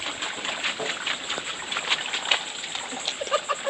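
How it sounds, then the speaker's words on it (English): A person splashes and plays in puddled rainwater on a farm, giving a steady watery wash broken by scattered sharp splashes at moderate, close range. "Kelly like a little kid playing in the water"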